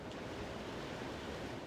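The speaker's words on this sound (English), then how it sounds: "Look, the ocean." Ocean waves in the Final Fantasy VIII video game, a continuous wash of surf noise, steady and even throughout with no distinct breaks, moderately loud and alone.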